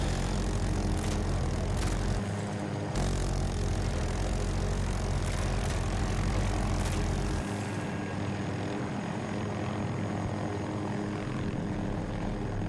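Little Bird helicopter in the video game Battlefield 2042, its rotor and engine roaring loudly and continuously up close, with shifting pitch as it maneuvers.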